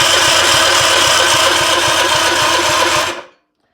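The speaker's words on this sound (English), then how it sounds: "that starter still sounds pretty funny, but it does seem to be turning it over a lot easier" A 1958 Johnson 50hp outboard turning over on its electric starter, a loud, rapid rhythmic cranking with an odd-sounding starter, churning steadily for about three seconds before cutting off abruptly into silence.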